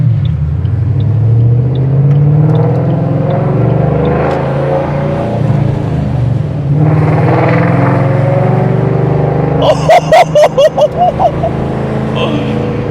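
A deep, throaty straight-piped V8 engine in a Ford Mustang GT rumbles under talking voices, rising in pitch as it revs, followed by a burst of sharp, rapid popping near the end.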